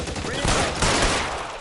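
Gunfire in the video game L.A. Noire, dense overlapping shots in a sustained burst with loud, cracking bursts throughout, while a voice speaks faintly underneath.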